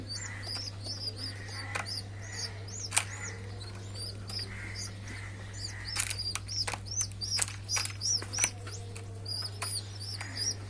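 Pigeon parent feeding two squabs, with rapid, repeated high chirps and squeaks from the chicks, soft rustling and wing flutters, and a constant low hum underneath; the begging grows busier toward the end.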